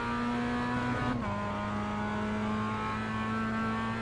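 A Lotus race car engine drones steadily during a qualifying lap in a racing video game, loud and continuous with a brief pitch shift near the start as if changing gear, and no talk.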